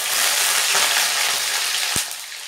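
Peanuts frying in hot oil for a fasting-day sabudana namkeen, a loud, dense, continuous sizzle close up that eases slightly near the end, with one low knock.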